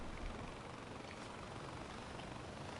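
Video game helicopter setting down, a steady rotor drone with broadband engine noise held at an even level throughout, no voices.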